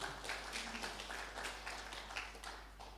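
Worshippers at GBI Altar Filadelfia in Jakarta applaud during a Sunday service, fairly faint scattered clapping with a low steady hum underneath.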